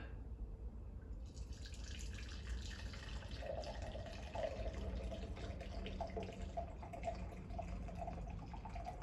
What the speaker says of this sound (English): we've got the strainer, we'll put that on there and we'll pour her in.